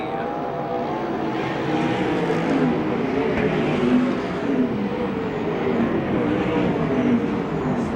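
Sprint cars on methanol race around a USAC/CRA dirt oval in Phoenix, Arizona, a steady loud engine roar that swells and fades slightly as cars come off the turn, continuous with no talk.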